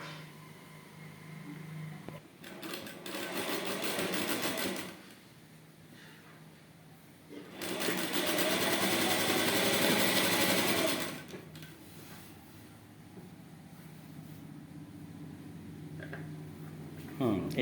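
A sewing machine stitches wrap trousers in two loud runs, the first around two to five seconds and a longer one from about eight to eleven seconds, with quieter pauses between and a voice talking faintly in the background.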